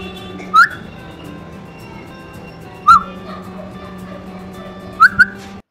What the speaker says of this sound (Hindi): सुबह सुबह सीटी बजा रहे, दिमाग ख़राब कर रहा है अपन का